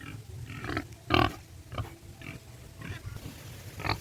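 Pigs grunting and oinking on a farm as they wallow in mud, a series of short snorts and grunts at close range over steady low background noise.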